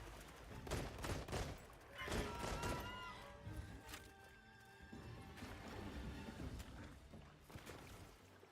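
Rapid gunfire bursts and sharp impacts from Monster Hunter Wilds gameplay, loud at first and then thinning into softer shots and clatter, with game effects layered behind.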